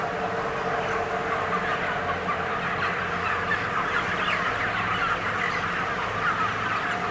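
Crowded chickens packed into a UK farm shed, a dense continuous murmur of clucking and chirping from many birds at once, steady and unbroken throughout with no talking.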